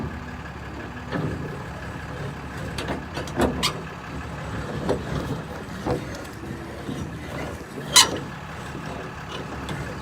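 A regular cab pickup truck idles and creeps in reverse to hitch a cattle trailer on a farm, with a steady engine rumble, scattered clanks and a sharp metallic clunk near the end.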